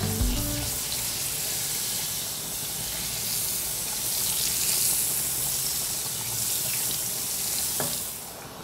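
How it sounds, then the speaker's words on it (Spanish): Premier spread melts in a frying pan of leftover bacon fat, giving a steady, hissing sizzle with crackling spatters that swells and eases, with no voices. "en el mismo sartén en donde hicimos la tocineta, aprovechando esa grasita y ese sabor, vamos a derretir un trozo de esparcible Premier"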